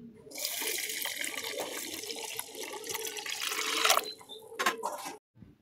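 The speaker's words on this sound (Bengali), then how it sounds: "এদিকে ডালগুলো আমি ভালো করে ধুয়ে নিচ্ছি" Water splashes and pours over lentils (dal) being washed by hand, a continuous close swishing with a louder gush toward the end, followed by a few sharp knocks and sudden quiet.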